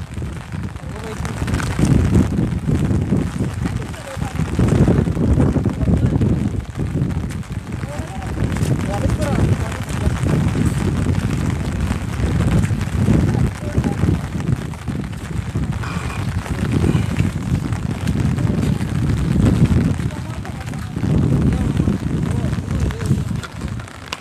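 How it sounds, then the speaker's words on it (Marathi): Rain falls over farm fields in the kharif season, a loud, continuous broadband wash mixed with gusty wind buffeting the microphone, and someone talks throughout. "हे बघू शकता या ठिकाणी पाऊस सुरू आहे"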